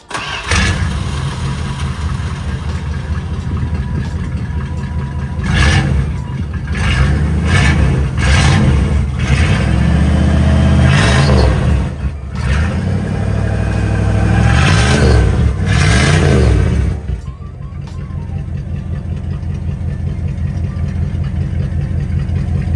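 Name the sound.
1987 Dodge pickup V8 engine revving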